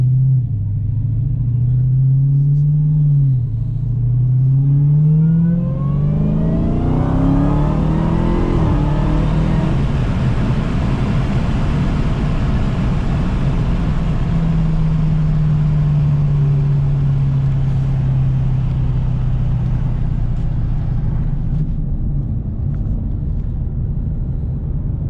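A Dodge Challenger Hellcat Redeye drives off around the block, its engine rumbling loudly, then revving and rising in pitch before settling into a steady, heavy cruise.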